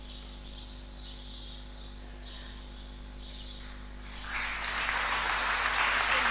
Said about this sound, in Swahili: Wapigeni makofi.